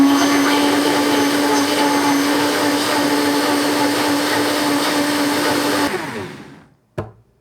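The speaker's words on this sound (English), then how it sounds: "we have a high-powered Vitamix blender, so it makes pretty easy work of this sort of thing" A high-powered Vitamix blender whirs loudly and steadily as it blends rice, cinnamon and other horchata ingredients, a droning motor whine that holds for about six seconds before winding down, then a short clunk.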